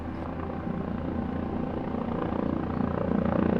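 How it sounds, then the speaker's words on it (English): A Flight for Life medical helicopter hovers above ice rinks in a canyon, a steady rotor and engine drone that grows gradually louder, with no voices. "Up through the canyon comes a Flight for Life helicopter."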